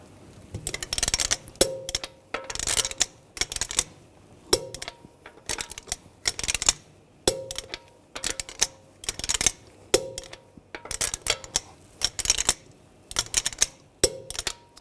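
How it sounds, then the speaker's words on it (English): A torque wrench on the lug bolts of a Volkswagen Tiguan wheel, tightened in a cross pattern: a repeated series of sharp mechanical clicks and ratcheting bursts, close and fairly loud, with short pauses between bolts. "Now we're going to torque the lug bolts to 89 foot-pounds in a cross pattern to tighten the wheel down evenly."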